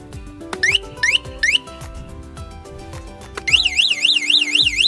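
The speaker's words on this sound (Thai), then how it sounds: "นี่แตรดังนะครับ" An electric bicycle's anti-theft alarm horn chirps three times in quick rising sweeps, then blares a loud, continuous warbling siren, close and alone.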